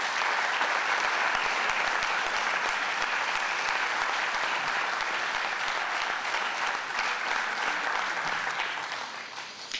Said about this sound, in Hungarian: köszöntsük őket még egy tapssal